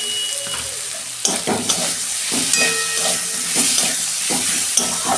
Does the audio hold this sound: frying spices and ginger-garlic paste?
yes